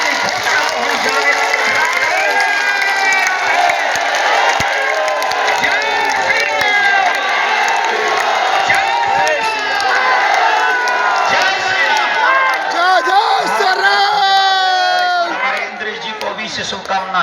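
A large crowd at a Hindu religious gathering cheers and claps loudly and continuously, with shouting and chatter layered throughout and a brief dip near the end.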